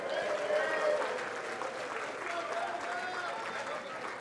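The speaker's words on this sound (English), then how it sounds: "Give yourselves a round of applause." An audience at a board game tournament claps steadily, a dense wash of applause that holds throughout and fades slightly toward the end.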